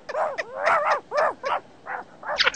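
Several dogs bark in short, excited bursts, about six yelping clusters spread over a few seconds, fairly close and loud, during a Brazilian TV prank show.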